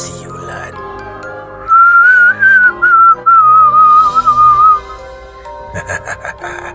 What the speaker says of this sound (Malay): Isyaratnya adalah siulan.